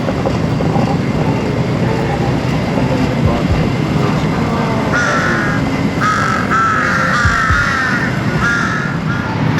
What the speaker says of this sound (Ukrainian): Прям дуже велика кількість ворон.